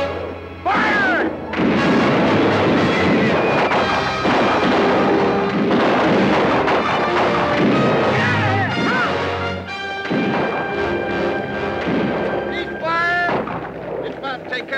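Artillery cannons fire in a Western battle scene: a long barrage of heavy booms and crashes, loud and dense, layered with shouting voices and an orchestral score.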